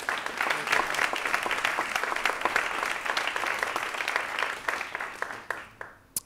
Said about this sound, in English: let me just have a quick round of applause for all the sponsors who have been super.